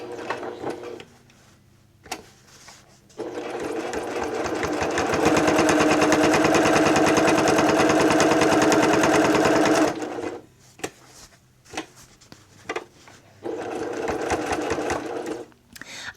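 Sewing machine topstitching a fabric bowl cozy runs in a loud, close, continuous burst of about seven seconds, with shorter stitching spells and quiet handling before and after.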